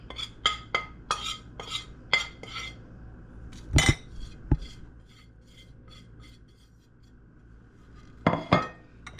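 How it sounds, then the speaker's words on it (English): Spices being mixed together and emptied into a bowl while making Caribbean oxtail stew, heard as a series of sharp metallic clinks and scrapes of a spoon against the bowl, in bursts with quieter rasping stirs between, no talking. "I'm gonna go ahead, mix all these spices up together and empty it in here"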